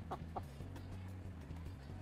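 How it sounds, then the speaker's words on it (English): A hen clucking in a low, deep voice, a couple of quick clucks near the start over a steady low hum, close to the mic. "Her cluck has gotten so deep."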